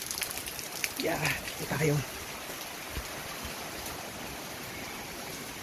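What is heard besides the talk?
strong wind and rain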